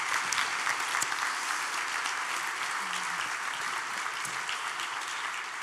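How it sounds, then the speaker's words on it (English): Sustained audience applause after a panel discussion on reliable sources and misinformation, a full room clapping loudly and steadily with a few sharper claps standing out near the start. "Please join me in a round of applause for Dawna and Brian."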